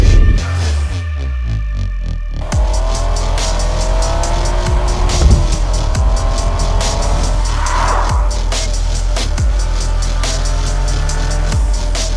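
A Toyota GR Yaris hot hatch roars loudly with rising and falling engine revs, tires squealing through hard driving, the engine note sweeping up and down continuously without any talk.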